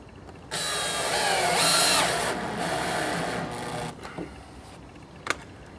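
Power drill driving Hardiebacker screws into an exterior stucco wall, a loud whirring burst of about three seconds that slows near the end, followed by a few faint clicks and a sharp tap.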